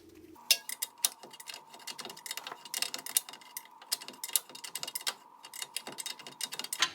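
A ratchet tightens a 22 mm nut on the upper control arm of a 2000 Nissan Frontier. Quick, close clicks come in uneven bursts, with short pauses between strokes.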